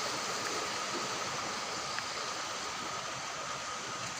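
Water flows steadily through a roadside drainage channel toward Chintaguda in Kagaznagar, a continuous close rushing wash with no talk over it.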